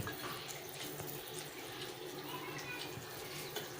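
Water runs into a dish in a home kitchen while sugar syrup for chana dal ladoo cooks, a continuous, even, fairly quiet stream that stays steady throughout.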